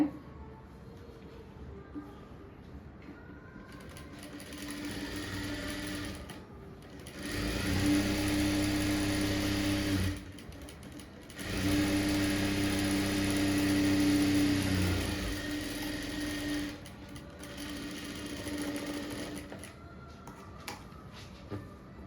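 A sewing machine stitches a blouse sleeve in bursts of close, whirring runs, separated by short pauses. No talk is heard.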